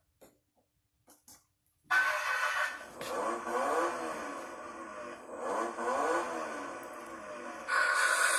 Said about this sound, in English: So now we're gonna turn on the car.